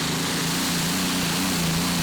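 A V12-powered pulling tractor roars with a steady, loud engine drone throughout a tractor pulling contest in Denmark, heard at a distance without any voices.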